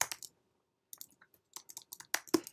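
Light typing on a computer keyboard while writing a Python program, sparse soft clicks in short irregular clusters, close and quiet with no talking.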